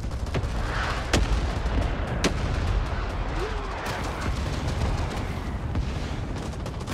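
An artillery barrage in Rising Storm 2 Vietnam booms out in sharp, heavy blasts at irregular intervals over a constant rumbling battlefield roar, with scattered gunfire between them.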